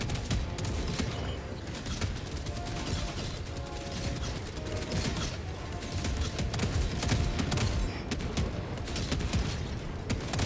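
In Helldivers 2, an auto cannon sentry fires rapid bursts of heavy shots mixed with mechanical clatter, a dense and continuous barrage at steady loudness with no talk over it.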